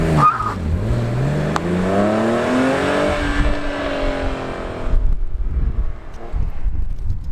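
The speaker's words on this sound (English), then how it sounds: "that was just a first gear acceleration" A car with a stock exhaust pulls away from a standstill in first gear, the engine note rising steadily as it accelerates away and fades into wind noise, with no talking.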